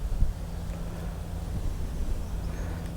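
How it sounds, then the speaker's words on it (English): Strong wind buffeting a microphone outdoors on a golf course, a steady low rumble with gusty swells and no talking. "And really windy here right now."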